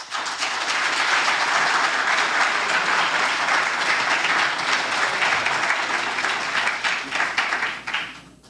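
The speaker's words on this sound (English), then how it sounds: "our honored guest and speaker deserves another round of applause" A lecture audience breaks into sustained applause for the guest speaker, a dense steady wash of clapping at close range that holds for several seconds before tapering off at the end.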